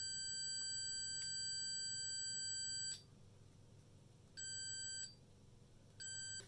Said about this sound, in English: just going to see if there's direct continuity between the contacts